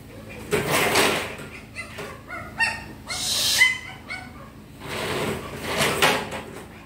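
A pet dog of some breed barks and whimpers in short, broken bursts, fairly close, with a few higher whines in the middle and muffled household voices and bumps underneath.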